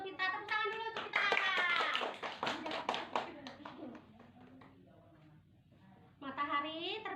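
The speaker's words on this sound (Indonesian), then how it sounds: "Kita tepuk tangan dulu untuk kita" Children in a second-grade science class clap their hands together in a brief round of applause after a teacher's prompt, with talking before and after the claps.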